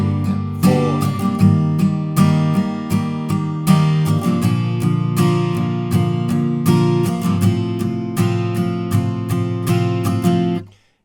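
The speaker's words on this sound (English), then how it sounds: "the strumming pattern that I'd suggest here is all down strokes at 8th notes" Acoustic guitar strummed steadily with even down strokes, a full ringing chord sound played close and continuous, ending abruptly.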